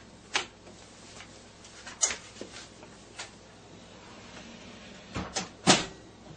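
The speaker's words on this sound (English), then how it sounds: "Close the door." A slot machine's door being shut after reprogramming, with scattered clicks, a sharp latch snap midway and a louder closing clunk near the end over a quiet room hum.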